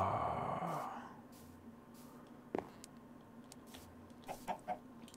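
Chickens cluck in a Minecraft TerraFirmaCraft jungle world, a few short, faint clucks scattered near the end after a brief louder sound at the start, with no talk.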